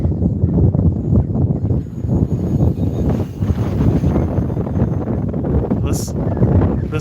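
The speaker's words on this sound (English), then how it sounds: "20-mile-an-hour wind, gusts upwards of the high 30s." Strong, gusty wind batters the microphone in bursts, about 20 mph with gusts in the high 30s, at an outdoor model airplane flight. Someone talks steadily over the buffeting.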